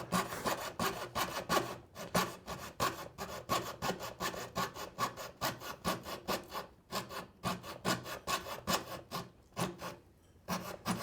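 A hand saw cuts through wood for a floor base at a youth builders' practical session: steady back-and-forth rasping strokes, close and loud, with brief pauses between runs.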